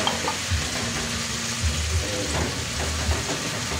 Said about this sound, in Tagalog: ikisa natin bawang sibuyas at ang century tuna